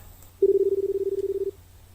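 A payphone in a video game rings once with a single steady electronic buzz lasting about a second, loud and close, with no voices over it.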